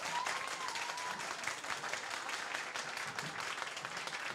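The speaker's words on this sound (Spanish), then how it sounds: "solo aplausos, nada de gritos para que nuestro director escuche bien." Audience applause without shouting at a drag show competition: broad, continuous clapping from a crowd, fairly faint and distant, steady from start to end.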